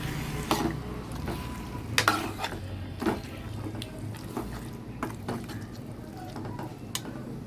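Marinated chicken pieces stirred in a hot pan for a spicy curry, with a soft frying sizzle under a series of sharp spoon scrapes and clinks against the pan at irregular intervals.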